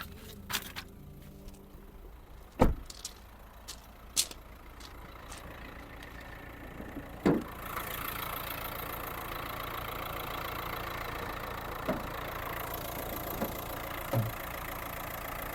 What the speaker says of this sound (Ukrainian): Двигунчик працює все рівненько